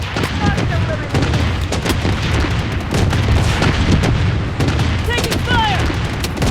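Rapid gunfire and explosions from the Blood Strike shooter game form a loud, dense barrage of overlapping shots and booms, with brief voice callouts mixed into the din.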